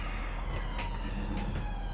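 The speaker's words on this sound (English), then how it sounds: "Ambulance. It's an ambulance," Emergency vehicle siren, likely an ambulance, sounds as a steady, low-level wail running through the whole stretch with no talking.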